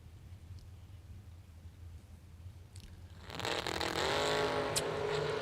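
A Camaro drag race car launching from the start line at the IHRA World Finals: a low distant rumble, then a sudden loud roaring surge that keeps building over the last couple of seconds.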